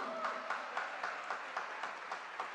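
A church congregation applauding: steady, moderately faint clapping from a crowd with a few soft, rhythmic accents, continuing without pause.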